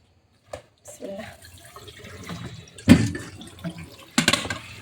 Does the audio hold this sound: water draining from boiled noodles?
yes